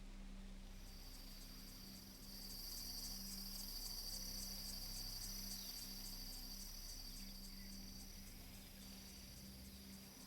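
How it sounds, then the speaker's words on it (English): A continuous high-pitched buzz of summer cicadas in a video game drones evenly throughout, steady and unbroken, over a soft low background hum. "we could put in some summer cicadas."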